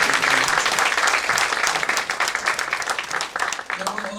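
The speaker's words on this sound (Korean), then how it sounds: "우리 박사님에게 감사의 박수를 한번 드리겠습니다" Audience at a forum on Chinese religious policy gives a speaker a dense round of applause, loud and continuous clapping from a full room that begins to thin out toward the end.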